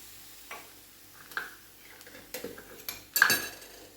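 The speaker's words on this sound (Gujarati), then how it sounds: "ફરીથી એક વખત એને મિક્સ કરી લેવાનું ને આવી રીતે એકદમ હળવા હાથે જ કરવાનું." Schezwan rice gently stirred in a metal pan, light scattered clinks and scrapes of a utensil against the pan, close and sparse, with a louder knock near the end.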